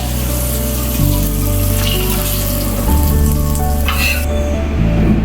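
Whole pomfret fish frying in oil on a flat tawa gives a steady, close sizzle and crackle that runs the full length, with no talking.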